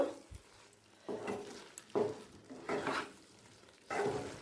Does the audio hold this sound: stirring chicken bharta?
yes